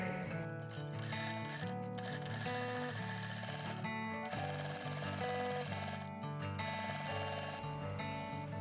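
A sewing machine stitches along the edge of a fabric sleep mask strap, a fast continuous mechanical chatter with brief pauses, heard close up over quiet background music.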